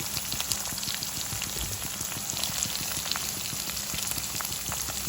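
Chopped large onions sizzle in hot oil in a pan for a mutton curry, a dense, steady crackle of small pops and spits, close and continuous with no talk.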